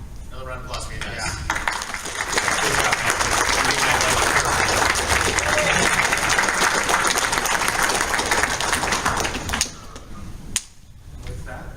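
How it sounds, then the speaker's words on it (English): An audience at a convention applauds loudly and steadily for several seconds with scattered cheers, then the clapping fades as voices and a sharp knock follow. "Another round of applause for you guys."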